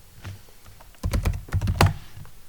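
A computer keyboard is typed on at a Linux command prompt: a quiet run of soft keystrokes, then a louder burst of clustered clacks ending in one firm keypress, with no voices.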